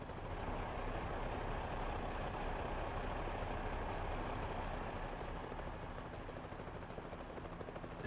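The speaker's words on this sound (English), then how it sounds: "I hear the helicopter, but I don't see it. Sounds like it's right above me." A helicopter hovers close overhead in an American Truck Simulator drive, a steady continuous rotor and engine drone with no breaks, moderately loud and unchanging throughout.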